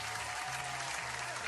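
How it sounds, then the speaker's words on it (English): Thunderous applause, dense and steady like a large crowd clapping at once, plays as a sound effect with a low musical hum beneath, continuous and fairly quiet throughout. "all you can really hear is sort of the sound of thunderous applause"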